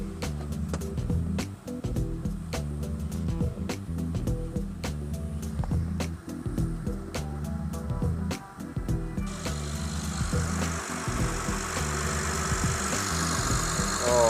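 A Honda J-series car engine idles steadily after a timing belt replacement, a low even rumble with a faint rhythmic tick that brightens slightly toward the end, with no talking over it.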